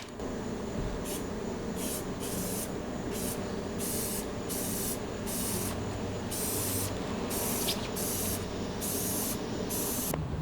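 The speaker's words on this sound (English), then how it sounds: "I just sprayed it" An aerosol spray paint can sprays in a series of short hissing bursts, about a dozen, separated by brief pauses, close by and fairly loud.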